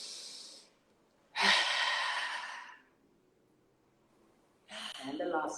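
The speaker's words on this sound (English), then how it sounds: "Just blurt out a sound through the exhalation 3 times." Three sharp, breathy exhalations blurted out with voice, each a loud burst of air separated by short silences, close to the microphone.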